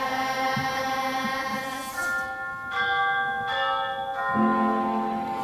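Clock bell chimes ring out in a staged production of A Christmas Carol, a sequence of struck tones with shimmering, sustained overtones, each new strike layering over the fading last, clear and close.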